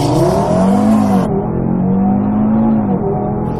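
A 2016 Audi TT RS launches under launch control at full throttle, its engine roaring loud and close, rising in pitch through the gears with a brief shift dip, no voices.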